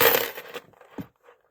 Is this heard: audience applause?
no